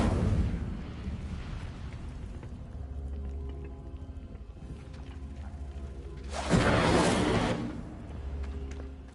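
A fiery spell burst in the Hogwarts Legacy video game erupts as a loud whooshing blast about two-thirds through, over a steady rumbling game ambience with no talk.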